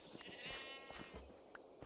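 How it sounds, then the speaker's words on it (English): A Minecraft sheep bleats once early on, in a short wavering cry. It sits among scattered clicks and soft ambient game sounds. "Dear God, we got a lot of sheep"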